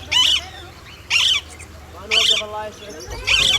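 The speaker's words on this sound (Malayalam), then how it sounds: "ആ തത്ത പറയുന്നത് അതിൻ്റെ ഭാഷയിൽ അങ്ങനെയാണ്" A parrot at a large zoo in Riyadh gives four loud, harsh squawking calls spaced about a second apart, close to the listener, with faint background noise between them.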